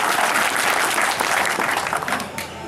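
Campaign-rally audience applauding at an election event: dense, steady clapping from a large crowd, loud and sustained throughout, tapering slightly near the end.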